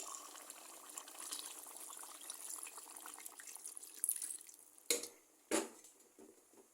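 A light splash of water poured into a pan of browned beef curry with green chilies, a faint, close pouring trickle that ends with two sharp, louder splashes.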